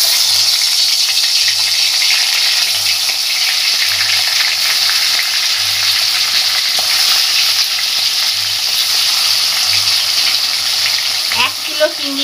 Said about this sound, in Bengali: কড়াতে সর্ষের তেল দিয়ে দিয়েছি। এবার মাছগুলো ভেজে নেব,